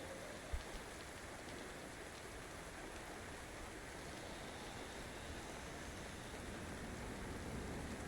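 Steady, soft rain falls in the DayZ game world as a continuous even patter, with no talking over it.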